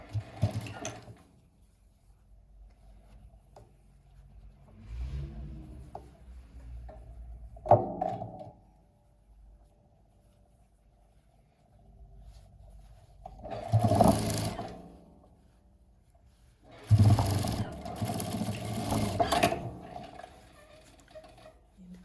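A domestic sewing machine stitches fabric for a cosmetic bag, running in a few steady whirring bursts of several seconds each with quiet pauses and small handling knocks between them.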